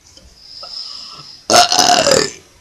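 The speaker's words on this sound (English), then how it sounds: "I can only burp if I'm drinking Coke" A loud, close human burp from someone drinking Coke, one long rasping belch about a second long that follows a brief quiet stretch with a faint high hiss.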